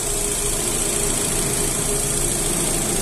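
Steady, even idle of a 2009 Chevrolet Astra engine after a pinging fault was fixed, heard close and continuous with no rise in revs or talk.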